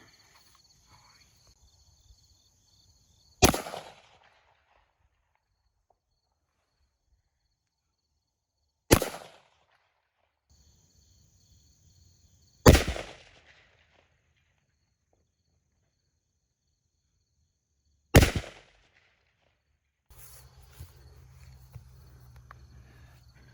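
A Core 15 rifle firing 5.56 mm 55-grain rounds outdoors: four sharp, loud single shots spaced several seconds apart, each with a short ringing decay, separated by near silence and a faint background hum.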